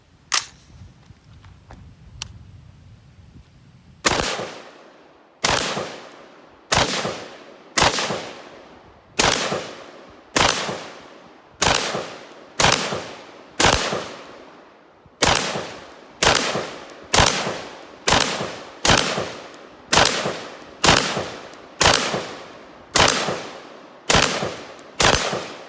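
Colt AR-15 6720 rifle firing 5.56 full metal jacket rounds outdoors, a short burst of faint clicks and then about twenty sharp, loud single shots at an irregular, roughly steady pace, each ringing off briefly, with no talking.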